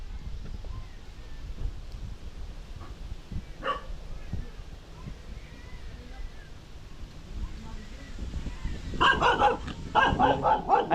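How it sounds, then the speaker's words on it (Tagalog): A big dog barks several times in quick bursts near the end, fairly close, after a stretch of low background noise with people speaking in the scene. "Laki ng aso guys"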